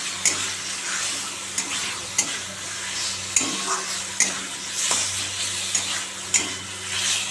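Fish curry frying and being stirred in a pan, a soft continuous sizzle with regular sharp scrapes and taps of the spatula, close by, over a low steady hum.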